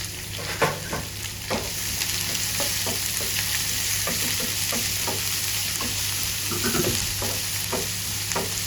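Onion, curry leaves, ginger and green chili sizzle steadily in a pan, a continuous close frying hiss broken by repeated scrapes and taps of a stirring spoon.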